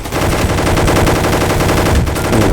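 Rapid automatic gunfire in the Roblox game Gunfight Arena, a loud, dense, continuous burst of shots with no pause.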